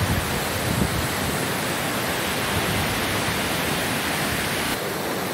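Lower Bertha Falls rushes in a steady, dense hiss of falling water, loud and close, unbroken for the whole stretch with no voices.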